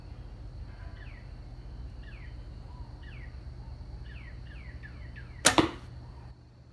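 An arrow thuds into an archery target, striking an arrow already in it, as one sharp crack near the end over steady low hum and scattered bird chirps.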